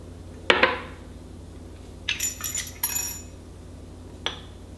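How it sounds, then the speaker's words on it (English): A glass Weck jar being put back together after a probiotic applesauce ferment, with a clear glass clink followed by a few light metallic clicks and taps of small stainless steel clips, close by in a quiet kitchen. "And then put our weck jar back together."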